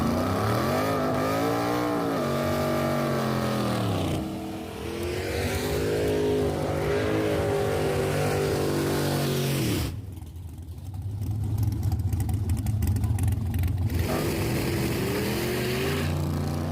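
A Ford Mustang fitted with a new converter makes a test pass, its engine revving loud and close, easing briefly, then roaring hard again with a rough, strained burst before settling into a steady drone.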